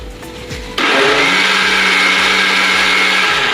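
Kitchen blender grinding chopped tomatoes, sugar and ginger for tomato jam: after a brief low hum the motor kicks on abruptly, loud and close, with a steady high whirring drone held to the end.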